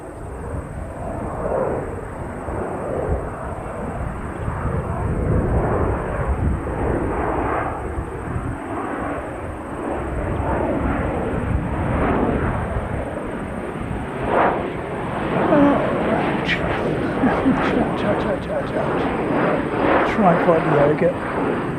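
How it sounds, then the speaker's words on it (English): An aircraft passes overhead during outdoor plane spotting, a broad continuous engine roar that swells and holds for the whole stretch, with people talking over it and a steady high whine running throughout. "Look at this beautiful aircraft."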